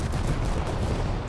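A bomb detonating in a naval combat game set among Russian cruisers, a dense low rumbling blast that rolls on steadily and fairly loud for the whole moment, with no voices over it.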